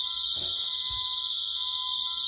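A house alarm in the horror film Insidious blares as a steady, piercing high electronic tone that holds constant at full volume, with a couple of faint thumps underneath.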